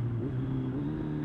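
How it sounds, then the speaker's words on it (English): Kawasaki Z1000 motorcycle engine droning steadily as the rider works down through the gears, a low continuous hum heard up close with no talking. "Coming down the gears, make some noise."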